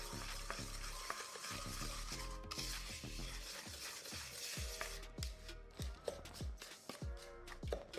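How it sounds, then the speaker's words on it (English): A mixing spoon stirs graham cracker crumbs with butter and sugar in a bowl, making a repeated gritty scraping and rustling with soft rhythmic knocks against the bowl, close and fairly quiet. "Taking your mixing spoon, mix these ingredients together."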